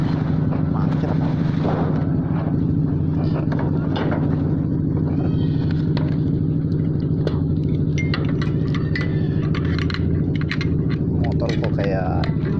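A motorcycle idles and putters in a traffic jam, its steady, rattly low drone resembling a Bajaj auto-rickshaw and running continuously. People talk intermittently over the engine.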